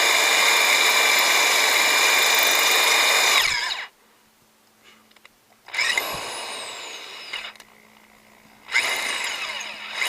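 A power drill whines steadily for several seconds drilling an exhaust part for a longtail mud motor, stops, then runs again in two shorter bursts, loud and close.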